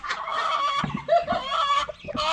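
A hen clucks loudly and insistently nearby in a rural farmyard, a run of rapid, squawking calls rising and falling in bursts without pause.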